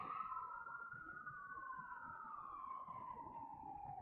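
An ambulance siren sweeps past in one long wailing tone that falls in pitch as it goes by, steady and moderately loud over a dull background rumble.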